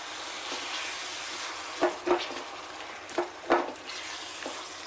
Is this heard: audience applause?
no